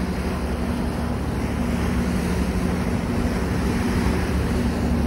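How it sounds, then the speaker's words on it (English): Halifax Transit ferry Christopher Stannix riding across the harbour to Woodside: a steady, loud rumble of engine and water wash with constant wind noise buffeting the microphone, no talk. "Excited to be back on this ferry, the Christopher Stannix to Woodside."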